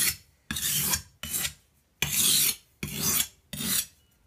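Six rasping strokes of a knife blade drawn across a sharpening stone, each a long scraping swipe with brief pauses between, close and clear with no speech.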